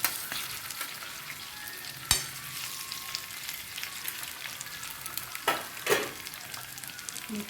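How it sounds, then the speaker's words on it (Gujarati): Sweet potatoes sautéing in ghee in a pan, giving a steady soft sizzle with a few sharper clatters of stirring spread through, moderately quiet and with no voices. "આપણે સોતરી લઈશું શક્કરિયાને. આ ઘીમાં પણ બહુ સરસ લાગે છે."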